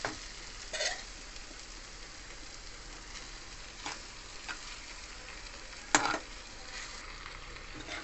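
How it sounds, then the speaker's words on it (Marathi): Okra is tipped into a pan of spice masala and stir-fried: a steady soft sizzle with a few scraping stirs of a spoon against the pan, close and moderately quiet, with no talking. "परतवून घेतलेली भेंडी टाकून घेऊया."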